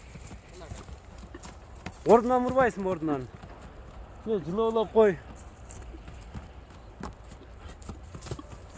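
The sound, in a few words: horse hooves moving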